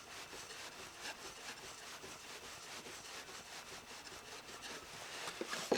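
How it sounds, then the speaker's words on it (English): A blade being honed with a slight micro bevel on a sharpening stone for building-site tools, a steady, soft, continuous abrasive hiss of stone strokes, close and faint, with no talking. "I give it a little micro bevel just by lifting it up very, very slightly."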